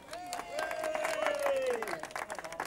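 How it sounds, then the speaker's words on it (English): Audience applause for a child at a holiday park event, steady crowd clapping through the clip with a whistle-like tone rising and falling over it. "Come on, some applause, come on."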